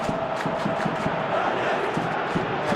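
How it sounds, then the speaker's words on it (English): Dense stadium crowd roar from a football video game, a steady wall of voices rising as fans urge a player to shoot, with no clear speech on top. "Crowd calling for him to shoot."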